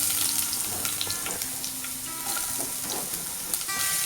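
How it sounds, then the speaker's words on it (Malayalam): Sliced ginger and garlic fry in hot oil for a Kerala-style beef fry, a steady close sizzle with light stirring scrapes and small clicks, no talk over it. "എണ്ണ ചൂടായിട്ടുണ്ട്. ഇനി ഇതിലേക്ക് 3 ടേബിൾ സ്പൂൺ ഇഞ്ചിയും വെളുത്തുള്ളി അരിഞ്ഞത് ചേർത്ത് കൊടുക്കാം."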